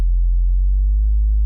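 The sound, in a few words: synth sub bass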